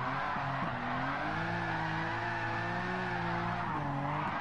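Dodge Viper drifting in Gran Turismo 7 with heavy turbo lag, giving a sustained, loud tire squeal over a droning engine note that rises and dips in pitch for several seconds, with no speech.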